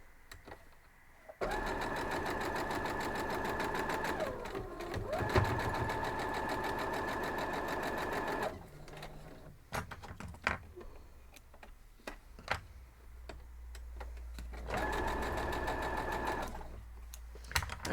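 A sewing machine stitches a folded-corner Big T quilt block in a long steady whirring run, pauses with scattered small clicks and handling noises, then runs again in a shorter burst, all fairly quiet.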